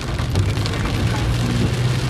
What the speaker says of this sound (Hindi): पानी कितना भरा हुआ, बहुत बारिश हो रही है ना